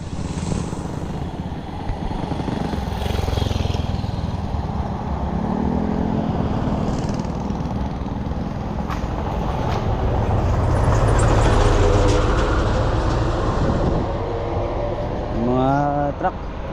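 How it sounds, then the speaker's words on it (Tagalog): A truck passing on a road near Boylong Lake, heard as a loud, steady engine rumble close by that swells slightly as it goes past, with a rising tonal whine near the end. "Ay, truck kuya."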